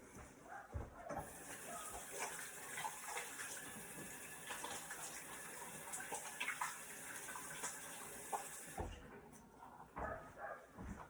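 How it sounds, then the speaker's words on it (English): Tap water runs steadily into a sink while hands are washed in a home kitchen during pizza making, a continuous close splashing flow that cuts off near the end with a few brief knocks. "Gonna wash my hands now."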